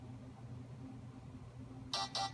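A song plays through the built-in speaker of a first-generation iPhone with no dock, entering abruptly after near-silence as a thin, tinny burst of music in short pulses.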